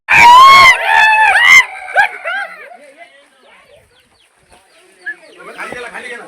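A rooster being caught lets out loud, frantic squawks up close, then breaks into scattered clucks that fade to quieter calls near the end.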